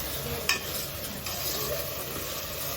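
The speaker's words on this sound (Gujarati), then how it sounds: "જો ડુંગળી હરખી ચડી જાય ને એટલે એમાં આપણે લસણ નાખી દીધું છે" Crushed garlic is tipped into onions frying in a pan and gives a steady close sizzle, with a brief clatter near the start.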